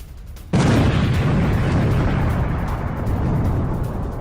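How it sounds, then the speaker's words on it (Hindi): A loud explosion near the Isfahan nuclear center in Iran strikes suddenly and leaves a sustained, roaring boom that rumbles on for several seconds, with no voices heard. "इस्फहान न्यूक्लियर सेंटर के पास यह धमाका हुआ है।"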